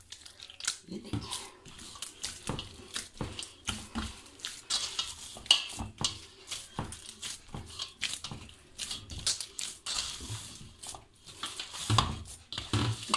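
Sweet potato dough is kneaded by hand with oil, making repeated close squishing and slapping in a steady working rhythm. Someone talks now and then.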